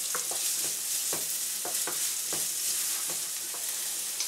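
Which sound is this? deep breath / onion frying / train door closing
onion frying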